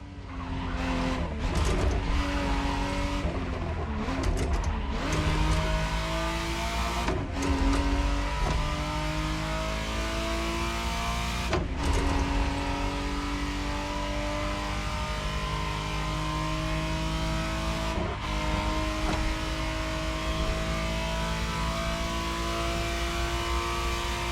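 A 1991 re-engineered Ferrari Testarossa in The Crew Motorfest, its engine roaring steadily and loudly throughout, pitch climbing through repeated revs with several sharp breaks at gear changes and a hint of tire squeal.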